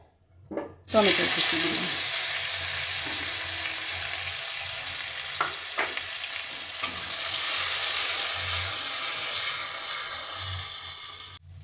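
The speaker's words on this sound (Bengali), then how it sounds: "ফোড়নটা হালকা করে ভাজা হলে এবার আমি দেবো এতে টমেটোর কুচিগুলো" Chopped tomatoes hit a hot pan of lightly fried spice tempering with a sudden loud sizzle that settles into a steady, hissing fry, broken by a few clinks and stirs over nearly twelve seconds.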